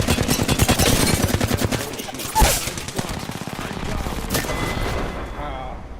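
Rapid bursts of gunfire in the video game Final Fantasy XVI, dense repeated shots over about six seconds with a louder crack midway, mixed with other game sounds.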